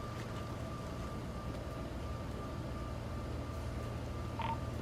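A telephone call from a police encounter goes unanswered, heard as a faint continuous tone with a low steady hum beneath it and a short beep near the end, with no voices.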